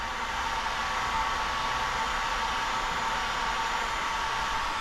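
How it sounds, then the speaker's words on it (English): Heat gun blowing hot air onto window tint film on a 2024 Mercedes-Benz C300, a steady, close, loud hiss and whoosh of airflow with a faint motor whine, unbroken for the whole stretch. "Another little line up here I'm gonna heat up right now since we have the heat gun out."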